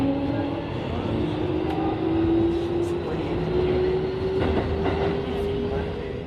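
Steady rumble and rail noise from a passenger train ride on the outskirts of Tokyo, with a rising whine running through the drone and a few light clacks; no one speaks.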